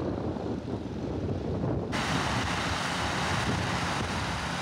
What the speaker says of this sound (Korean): 바로 옆 활주로에선 크고 작은 비행기들이 사람들을 태우고 이륙과 착륙이 한창이다.